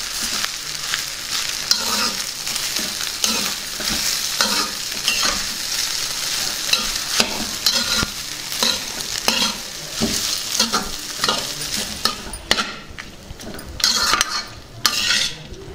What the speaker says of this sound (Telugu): దీన్ని ఒకసారి బాగా కలుపుకుందాం.